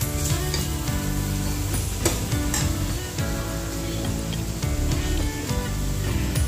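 Egg and cabbage frying in a pan, a continuous close sizzle with occasional stirring scrapes, under steady background music.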